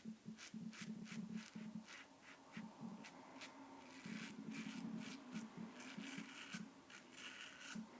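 A Yaqi Ultima Slant adjustable safety razor set to 1 scrapes across stubble in repeated short rasping strokes, close up and fairly quiet, each pass a crisp scratchy burst.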